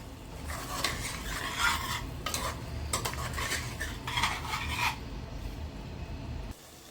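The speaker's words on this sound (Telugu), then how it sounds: "1 స్పూన్ పసుపు, 1 స్పూన్ ధనియాల పొడి. అన్నీ మంచిగా కలుపుకోవాలి." A spoon stirs turmeric and coriander powder into Telangana-style mutton curry in a pot, with scraping, rubbing strokes in bursts that stop near the end, close and moderately loud with no talking.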